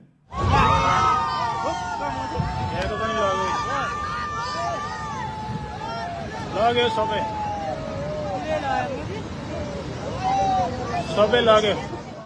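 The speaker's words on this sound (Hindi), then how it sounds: "पुल को टूटता देख आसपास खड़े लोग जोर जोर से चिल्लाने लग गए" A large crowd shouts and screams loudly as a flood-swept bridge collapses in Nepal, sustained frantic yelling with rising bursts of cries near the end.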